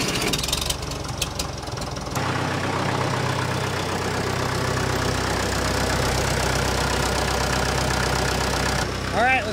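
An old tractor engine cranks over briefly, then catches and settles into a steady, loud idle with a continuous low rumble close by, running alone through most of the stretch.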